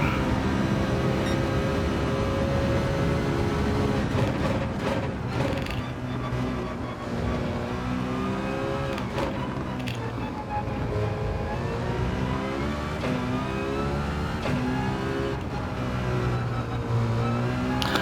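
Race car engine from Gran Turismo 7 on a flying lap, a loud continuous drone rising and falling through gear changes and revs for the whole stretch, with no talk over it.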